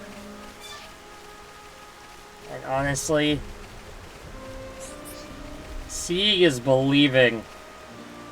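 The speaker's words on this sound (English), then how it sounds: "Too bad it's raining out." A soft, steady patter of rain hisses in the video game Xenoblade Chronicles while a person talks over it in two short stretches.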